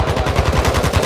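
Call of Duty: Warzone 2.0 gunfire hammers away in a fast, steady automatic burst, loud and close, with no voices over it.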